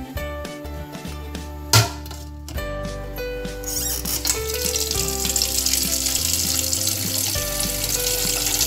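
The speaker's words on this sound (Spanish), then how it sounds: "agarraremos la olla, procederemos a llenarla de agua." A cooking pot is filled with water from a tap for a cinnamon-stick infusion: a steady rushing stream builds and keeps running over several seconds beneath tonal background music.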